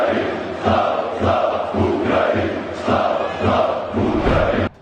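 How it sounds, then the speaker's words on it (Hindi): Large football crowd in Croatia chanting Save Mariupol in loud, rhythmic bursts, each chant phrase swelling and repeating roughly every second or so, dense massed voices filling the stadium. "फुटबॉल मैच के दौरान भीड़ ने सेव मारियोपोल के नारे लगाए"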